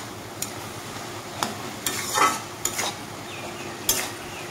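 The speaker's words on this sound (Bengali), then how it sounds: "ভালোভাবে নাড়িয়ে চালিয়ে নেব।" Ground cumin and coriander being stirred in a pan for a fish-head and ash gourd ghonto, faint frying hiss with a few distinct spoon scrapes spaced a second or so apart.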